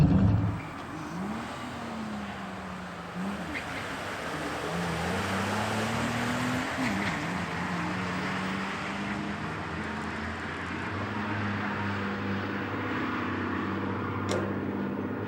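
A cheap open-differential Mustang and other cars at an unprepped, slippery drag strip: engine roar climbs and settles steadily through the stretch, loud and continuous, with pitch sweeps as revs rise.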